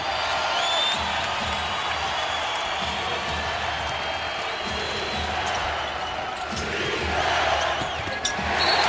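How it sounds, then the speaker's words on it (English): An NBA arena crowd at a 2008-09 Pacers vs Jazz game roars and cheers continuously, with a swelling rise near the end and scattered whoops and sneaker or ball sounds under the din. "And look at this crowd. Listen to this crowd."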